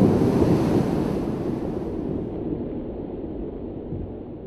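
Loud, continuous ocean surf representing the ancient Tethys Sea, a broad rushing wash of waves with wind-like roar that eases slightly toward the end, heard alone without voices.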